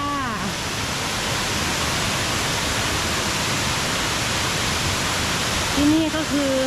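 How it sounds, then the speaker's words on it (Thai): Song Nang waterfall in Thailand roars as a steady, loud broadband rush of falling water, with brief voices rising over it near the start and again near the end. "ที่นี่ก็คือน้ำตกสองนางนะคะ"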